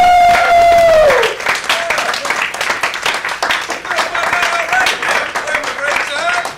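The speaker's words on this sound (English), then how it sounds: "how about one more round of applause for everybody on the show?" A comedy-show crowd bursts into clapping after a sustained tone fades, a dense, lively patter of applause continuing to the end, fairly loud and close.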